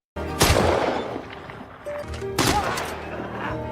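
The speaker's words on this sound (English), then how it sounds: "another gunshot was suddenly heard" Gunshots ring out in an enemy-territory setting: a sharp, loud crack at the start with a rolling tail, then a second heavy blast about two seconds later that trails off into echoing rumble.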